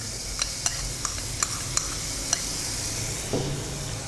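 Mushrooms and onion fry with steady sizzling in the background while a utensil taps and scrapes against the pan several times, with a soft clunk near the end.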